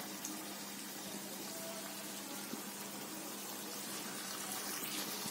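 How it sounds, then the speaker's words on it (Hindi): Gulab jamun balls made from curdled milk frying in hot oil give a steady, soft, continuous sizzle and bubbling hiss, close and even throughout with no talk. "गोल्डन ब्राउन हुए तक हम इसे फ्राई कर लेंगे"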